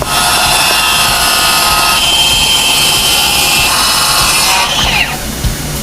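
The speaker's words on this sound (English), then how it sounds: "We cut our MDF down to a more manageable size" A loud power tool cuts through an MDF board with a harsh, sustained whine and grinding rasp that runs steadily, then winds down near the end.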